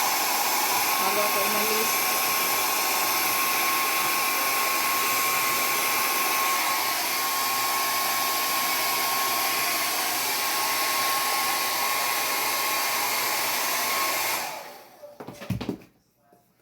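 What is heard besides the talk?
hair dryer drying hair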